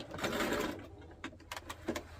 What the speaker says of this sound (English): machine stitching it is a lot more quicker than hand stitching it